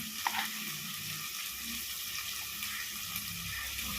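Onions with ginger garlic paste sautéing in a pan for a gravy, a soft steady sizzle with faint stirring clicks and scrapes, quiet and close with no talking.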